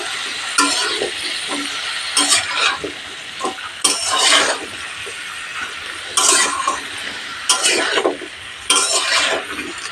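Turmeric and slit green chillies being stirred into a coconut vegetable curry in a pan, with repeated bursts of spoon scraping and clinking over a steady sizzle, no talking.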